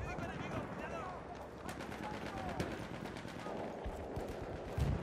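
Rapid bursts of gunfire crackle and rattle at a low, distant level, mixed with scattered clicks and faint voices in the background.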